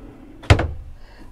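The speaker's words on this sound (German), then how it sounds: "Das ist jetzt kein Softclose." A kitchen drawer without soft close in a budget camper van slides shut with a single sharp, close wooden thunk and brief rattle, then quiet.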